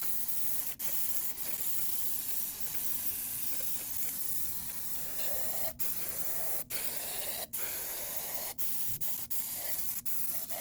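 A continuous aerosol spray of brake cleaner hisses loudly and close, broken by a few brief pauses as the nozzle is released and pressed again, cleaning oil residue on a 2015 Hyundai Elantra engine.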